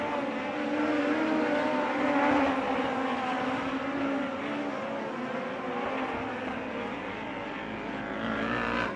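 A USAC midget race car powered by an MBR Honda engine runs at Red Dirt Raceway, its steady high-pitched drone holding on and off throttle for the whole stretch, close and loud with no talk over it.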